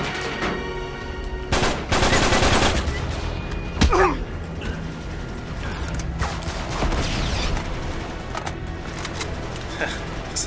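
Gunfire aimed at a sniper in Uncharted 3: Drake's Deception, with several loud bursts of shots and sharp impacts across a busy combat mix, heard alongside a talking voice.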